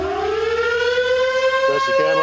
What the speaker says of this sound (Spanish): Sirena, se apaga al segundo timbre.